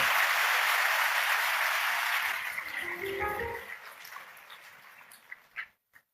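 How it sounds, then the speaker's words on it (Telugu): A church congregation claps at a Watch Night Service, a dense sustained wash of applause that gradually thins and fades into scattered claps and near silence. "చప్పట్లు కొట్టి దేవుని మహిమపరుద్దాం"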